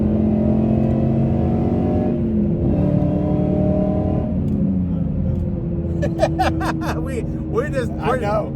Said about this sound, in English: We'll do a little pull here when we get some room, but we'll roll into the power a little bit.